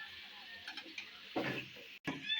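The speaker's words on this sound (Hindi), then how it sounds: "इसको अच्छे तरीके से मिक्स कर देंगे और इसको भी भूनेंगे मसाले में" Mutton being stirred into masala in a karahi gives soft scraping and a gentle frying hiss, fairly quiet, with a louder scrape near the end.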